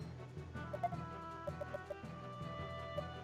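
Chicken clucks from the video game Radiant Historia, a few short clucks scattered over a steady musical background, moderately quiet.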